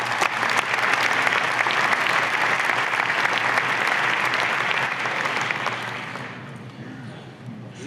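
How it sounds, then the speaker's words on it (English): A conference audience at the ILC 2017 opening ceremony applauds the reviewers with dense, sustained clapping from a large crowd that holds steady for several seconds, then thins and fades near the end. "I would ask you to give them a big applause"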